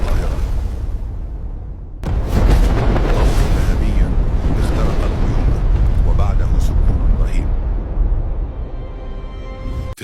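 A huge explosion sound effect roars out after a brief lead-in, then a loud, sustained rumbling blast fills the remaining seconds before fading near the end.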